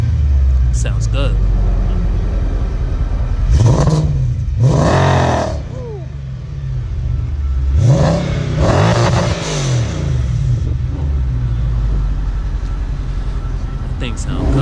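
A car with a headed straight-pipe exhaust at a car meet revs hard in two pairs of loud, rising and falling engine blips over a constant idle rumble, with people talking nearby.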